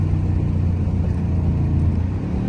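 A car with paddle shifters slowing down and downshifting into third gear: a steady, loud low engine rumble with a faint rev change, heard alone without talk.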